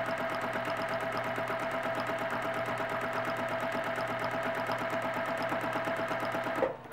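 A sewing machine runs steadily in close, continuous straight-line quilting, its rapid even stitching rhythm unbroken for several seconds before stopping abruptly at the end.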